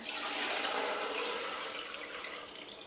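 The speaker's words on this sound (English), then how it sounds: "Now I'm going to strain out the water, so I'm just going to pour this into a strainer" Water drained from pomegranate seeds pours into a strainer in a steady, soft splashing rush that tapers off slightly toward the end.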